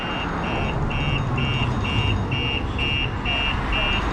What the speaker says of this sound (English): Alarm's still going off.